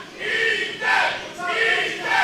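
A crowd at a ProSouth Wrestling event urging a downed wrestler back to his feet, rising in surging waves of chanting and cheering, with swells roughly every second across the short stretch.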